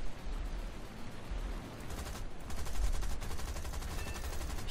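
Aircraft machine guns firing in War Thunder: rapid rattling bursts over a steady engine drone, fairly faint, with rhythmic staccato firing building toward the end.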